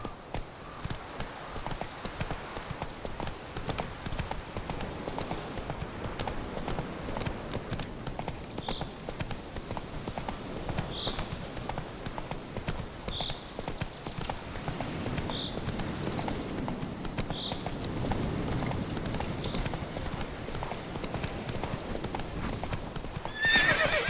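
In The Witcher 3 video game, a horse gallops with steady, rhythmic clip-clop hoofbeats throughout, accompanied by a short series of faint higher calls spaced a few seconds apart and a whinny at the very end.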